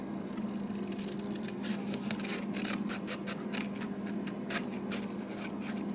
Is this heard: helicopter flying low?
no